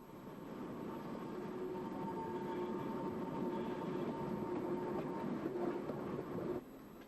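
A narrow gauge train arriving at Ballinamore, Ireland, in the 1950s rumbles steadily in the distance with a faint rolling clatter, a thin squeal running through before the sound suddenly drops away.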